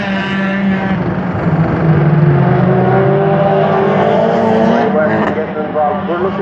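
Stock cars racing at Waterford Raceway, engines droning and rising as they run around the oval, loud and continuous with announcer-style talk over the top.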